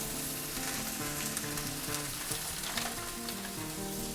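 Sausages fry on low heat in a pan with cheese melting on top, giving a steady, soft crackling sizzle throughout with small pops, and no talking.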